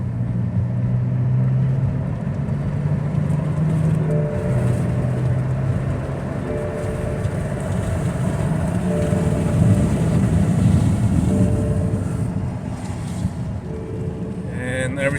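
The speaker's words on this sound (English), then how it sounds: "Okay, we are test driving." A 2006 BMW with a ZF6HP automatic transmission drives on a test drive after a limp mode fix, heard as a continuous cabin drone of engine and road noise with faint shifting tonal whines.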